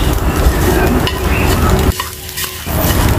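A turkey egg fries in a pan with a dense, continuous close sizzle, briefly quieting partway through as it is stirred or moved, with no talking.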